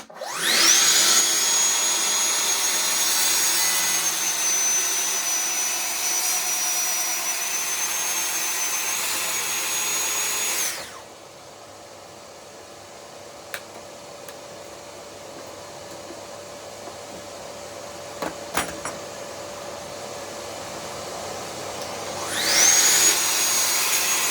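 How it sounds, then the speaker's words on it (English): A Festool TSC 55 K plunge saw makes a 50mm-deep cut through oak, a loud, steady high-pitched whine for about ten seconds that stops and is followed by a quiet stretch and a brief restart at the end. "Right, so we have the TSC 55K. Let's just see how this performs the cut. 50mm deep, same as before. Different saw."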